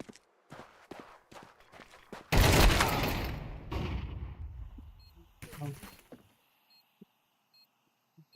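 Gunshots in Counter-Strike 2: a few sharp, scattered cracks, then a loud, heavy blast that rings and fades over several seconds, followed by another brief burst and quiet ticking.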